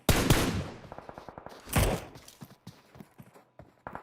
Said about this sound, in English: These are some serious distance shots going on.